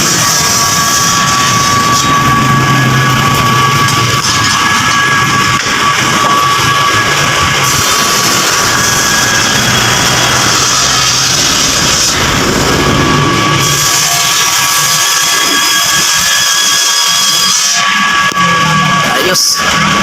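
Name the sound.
Honda Wave motorcycle engine idling with cut muffler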